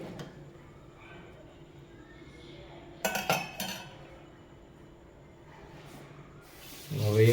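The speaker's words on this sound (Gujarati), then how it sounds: "ધાણા ભાજી નાખીને મિક્સ કરી દઈશું." A spoon clinks against a pot while stirring Kathiyawadi kadhi after coriander leaves are added, giving a brief cluster of metallic scrapes and taps, with further clatter near the end.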